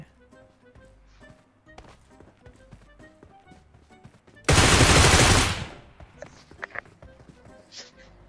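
Gunfire in PUBG Mobile during a duo squad match, a loud sustained burst of about a second amid scattered footsteps and game noise, with people talking.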